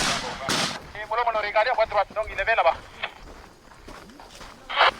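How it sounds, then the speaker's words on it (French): Gunfire from soldiers during an armed engagement in Burkina Faso, a few sharp, sudden shots spaced out across the stretch, heard beneath a voice. "Un fantassin en faction ouvre le feu. Les balles fusent."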